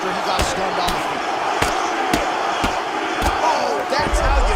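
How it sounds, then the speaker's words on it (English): Arena crowd at an MMA fight roaring steadily with loud cheering, thudding impacts cutting through at intervals, and commentary voices underneath. "big pop from the crowd there"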